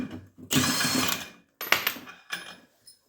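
A power impact wrench with a 22 mm socket hammers at a clutch bolt on a Yamaha, one long rattling burst followed by several shorter bursts with gaps, close and loud.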